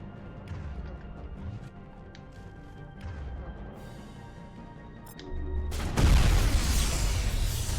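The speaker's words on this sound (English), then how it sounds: "Explosion." Explosion in the video game Mass Effect Legendary Edition, a loud crashing boom bursting in after several seconds of quieter game noise and rumble, then lingering as a dense roar.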